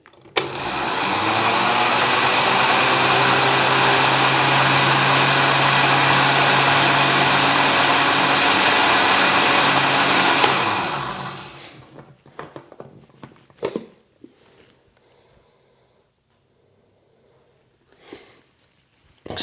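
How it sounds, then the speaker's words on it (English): A blender runs for about ten seconds on a slow blend of homemade pesto, a loud steady motor whir, then cuts off, followed by a few faint clicks and scrapes in near silence. "I'm going to do the slow blend."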